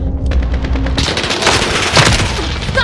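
Rapid automatic gunfire in Call of Duty: Modern Warfare, a Team Deathmatch round on the Shoot House map, rattles loud and close in a dense continuous burst lasting a few seconds.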